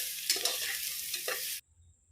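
Mushroom biryani ingredients are stirred and mixed in a frying pan, a bright scraping, sizzling churn with a few sharper scrapes that stops abruptly near the end, leaving near silence.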